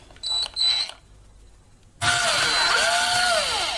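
An electric drill bores a new hole in a bakelite board for a homemade telephone line protector, a short burst of clicks first, then a loud steady whine that holds to the end.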